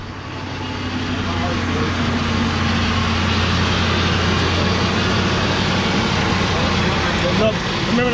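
The replacement engine of a 2000 Ford Expedition fires up for its first start and settles into a steady, loud, low idling drone that holds unchanged close by, with voices faintly underneath.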